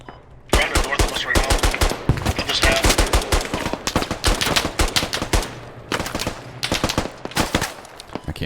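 Rapid, loud bursts of automatic gunfire from a TLF weapon in the Squad shooter game, sharp cracks in fast irregular volleys filling the clip, with a voice talking faintly underneath.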